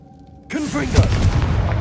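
A fiery Confringo spell blast in the Hogwarts Legacy video game erupts suddenly out of near silence into a loud, sustained burst and crackling roar, with whooshing tones sweeping through it.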